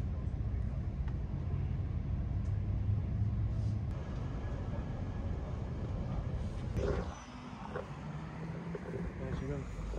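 Rumble of a double-decker commuter train in Toronto, a steady low rolling drone heard from inside that dips and eases partway through, with faint talk in the background.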